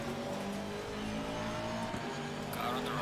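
A racing car engine in Assetto Corsa Competizione, an Aston Martin at Spa, hums and whines steadily, then rises in pitch as it speeds past, with a faint mechanical rumble underneath.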